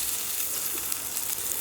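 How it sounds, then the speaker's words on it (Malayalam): Oil sizzling and crackling in a hot pan before cooking fish curry, a bright, steady frying hiss close by with small pops, no voices. "അപ്പോൾ നമ്മൾ ചട്ടി ചൂടായിട്ടുണ്ട്. എണ്ണ ഒഴിച്ച് കൊടുക്കാം"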